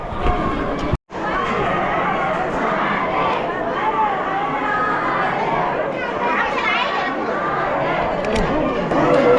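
A dense crowd of pilgrims chattering while waiting in the queue at Trimbakeshwar temple, a steady loud murmur of many overlapping voices throughout, briefly cut near the start.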